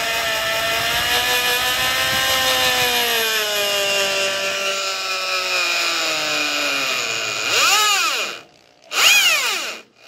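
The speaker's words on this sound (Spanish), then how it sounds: "debo de encender el taladro a bajas revoluciones." An electric drill runs at low speed to twist a long cable for a homemade TV antenna, a steady whining hum that slowly drops in pitch, then a couple of short revving bursts near the end.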